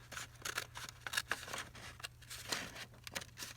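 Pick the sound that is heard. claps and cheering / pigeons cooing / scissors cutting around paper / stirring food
scissors cutting around paper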